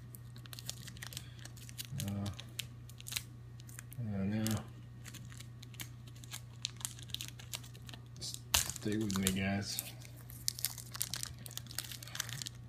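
Someone struggles to open a taped-shut mail package of trading cards, producing faint crinkling, tearing and scraping bursts of tape and plastic, with a person talking intermittently in a quiet room.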